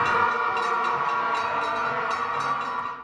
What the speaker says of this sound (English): That's the sound of the opening bell at the Philippine Stock Exchange in Taguig